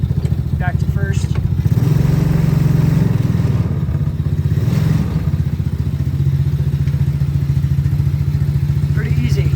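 A mini Jeep's small engine chugs steadily up close while the driver works through the gears from first to third and back to first, with a rattly, thumping idle and a person talking over it.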